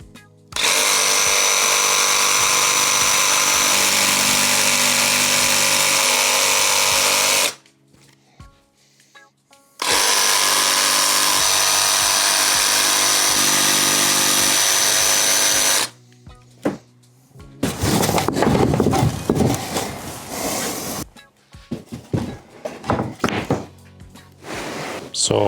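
A power saw cuts a wooden exterior column piece in two long, loud, steady buzzing passes of several seconds each with a pause between, followed by clattering as the wood is handled; no talk.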